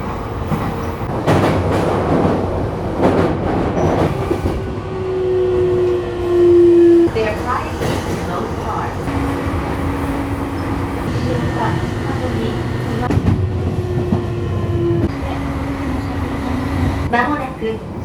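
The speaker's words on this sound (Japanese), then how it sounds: "列車動きます。ご注意ください。" A train pulls away and runs along the rails on a line heading toward Mito terminus, with steady rumbling and tonal motor whine rising in pitch, recorded from inside the car, with station announcements spoken over it.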